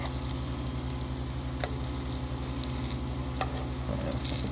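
Breaded, rehydrated freeze-dried pork loin fries in grease with a continuous, dense, close sizzle and crackle, with no voices.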